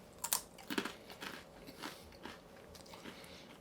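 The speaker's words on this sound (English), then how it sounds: "So it's got a good snap to it." Close crunchy bites into Mission low carb tortilla chips with taco seasoning, a few sharp crisp snaps followed by softer chewing crackles, quiet and alone.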